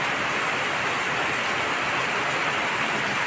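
Steady, dense downpour of heavy rain, a loud continuous hiss that stays constant throughout with no voices.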